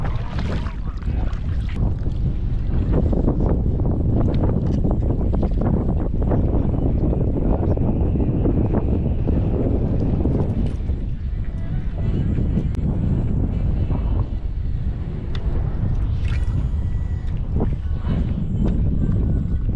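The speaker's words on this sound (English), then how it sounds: "Looks like the wind's starting to rear its ugly head again." Strong wind gusting over Lake Mulwala while kayak fishing, a loud continuous roar of buffeting and microphone rumble with water splashes throughout.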